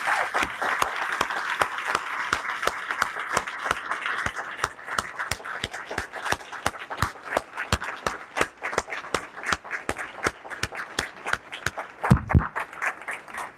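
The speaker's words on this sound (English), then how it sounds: "Let's all give Mr. Peoples and all our veterans a nice round of applause." An audience at a county address gives a round of applause for veterans, a sustained patter of clapping hands with sharper individual claps standing out, building and then thinning toward the end.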